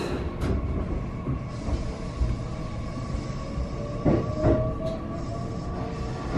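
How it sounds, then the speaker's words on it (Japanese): A JR West 227 series commuter train bound for Wakayamashi rumbles steadily at a platform, with a few sharp clanks and a brief wheel squeal. "普通の和歌山市行き、最新の227系ですね、2駅だけですけど、これで和歌山市まで向かいます。"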